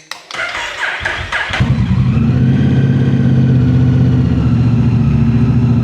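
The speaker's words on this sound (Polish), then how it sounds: "to wyłączamy silnik z kluczyka." Motorcycle engine: brief mechanical clatter as it is handled, then a loud steady low idle rumble that continues to the end, close up with no talk.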